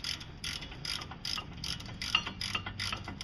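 A ratchet wrench works on stuck caliper bracket bolts of a 1998–2005 Chevy Blazer, giving short bursts of quick metallic clicking, close and moderately loud, with no voices.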